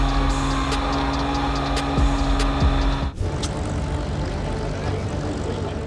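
Supermarine Spitfire propeller aircraft flying aerobatics, its engine a steady, rough droning roar that shifts abruptly to a broader, hissing rush partway through.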